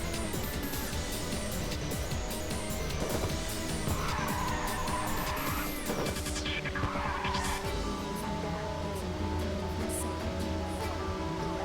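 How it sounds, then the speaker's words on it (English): Tires squeal as a car drifts through a long corner in the PlayStation racing game Ridge Racer 2, played through emulation on a PlayStation 5 Pro. The squeal runs under steady engine drone and game music, loud and continuous. "I couldn't make it through the full corner drifting"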